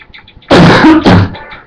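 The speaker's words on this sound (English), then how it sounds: "I'm still suffering from that cough" A single harsh cough from a man indoors, loud and close, breaking out in two quick bursts against a quiet room.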